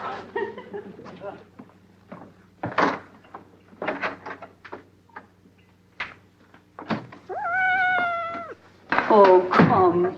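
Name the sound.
kitten meowing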